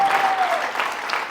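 A church congregation in Uganda claps their hands together in dense, sustained applause that fills the room, with a brief voice in the background.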